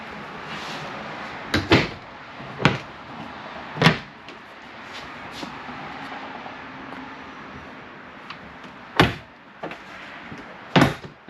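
Door of a pantry inside a 2026 Keystone Cougar Half-Ton 23MLE fifth-wheel RV, heard as a few sharp knocks and clicks of handling and latching spread over a quiet room background, with no talking.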